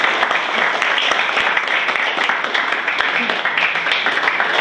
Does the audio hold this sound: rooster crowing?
no